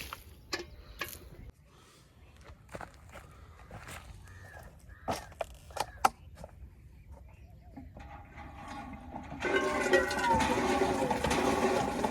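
After crows caw in the open and a few scattered knocks, a sudden rush of splashing water pours out and continues noisily to the end.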